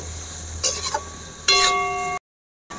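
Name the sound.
chopped onion frying in a pan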